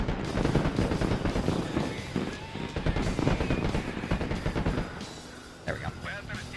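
Dense gunfire and explosive bursts from the military strategy game Broken Arrow rattle continuously during a fight against snipers, loud and overlapping, while someone talks over the shooting.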